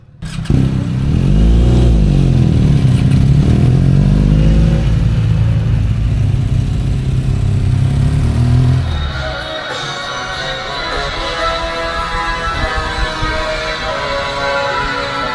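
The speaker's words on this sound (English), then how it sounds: "wants us to listen to his motorbike. He reckons second gear sounds weird." A BMW R1250 GS Adventure motorcycle engine in second gear runs loud and close, its pitch sweeping up and down under revving, then settles into a lighter, higher idle-like drone.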